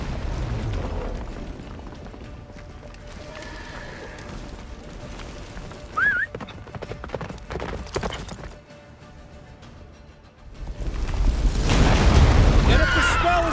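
Hooves of Roach, Geralt's horse in The Witcher 3, clip-clopping at a gallop through a blizzard toward a fortress, with rumbling wind and game dialogue over the hoofbeats, growing louder and heavier toward the end.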